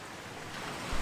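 Sea waves wash in at Mansands beach at sunrise, a steady soft surf hiss with wind noise, swelling louder as a wave rushes in at the end.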